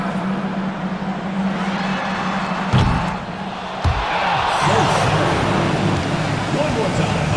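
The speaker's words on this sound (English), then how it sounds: "Make some noise and get ready for the MyNBA half-court shot." A virtual arena crowd in the NBA 2K25 basketball game roars in a continuous wash of noise before a half-court shot, with a low hum and a couple of sharp thuds, while an announcer's voice talks over it.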